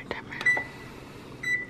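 A kitchen timer gives a few short, thin electronic beeps, faint against a quiet room, with a gap before a final beep.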